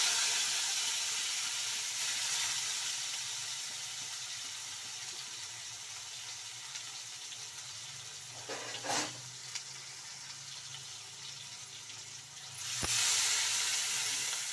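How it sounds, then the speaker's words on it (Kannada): Onion frying in oil with curry leaves, mustard seeds and ginger-garlic paste for a radish curry, a soft continuous sizzle and hiss with a couple of brief louder stirring bursts, faint and without talk. "ಸ್ವಲ್ಪ ಈರುಳ್ಳಿ ಕಲರ್ ಚೇಂಜ್ ಆಗಬೇಕು ನೋಡಿ ಈ ರೀತಿ ಫ್ರೈ ಆಗಬೇಕು ಚೆಂದಾಗಿ"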